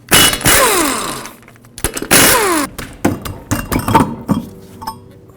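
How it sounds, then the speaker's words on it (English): An impact wrench or socket tool spins off the wheel lug nuts with a 19mm socket on a 2006-2011 Chevrolet HHR, giving two loud buzzing whirs followed by a flurry of metallic clinks and rattles. "Now remove these 5 lug nuts, also with a 19mm socket, and then we'll take the wheel off."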